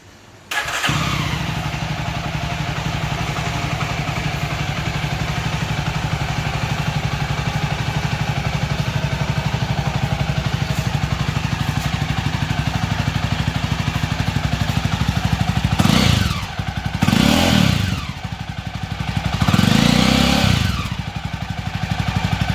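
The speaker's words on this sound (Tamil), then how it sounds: "இந்த வண்டியோட பீட் இப்போ பார்க்கலாம் எப்படி இருக்குன்ட்டு." A 2020 Jawa 42 motorcycle with about 7,000 km on it starts and settles into a loud, steady single-cylinder thump close by, with a few sharp throttle blips near the end and no one speaking.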